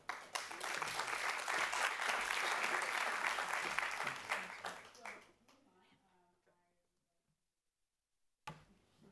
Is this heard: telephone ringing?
no